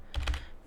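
A few quick keystrokes entering numbers on a computer keyboard, close and fairly quiet, with no voices.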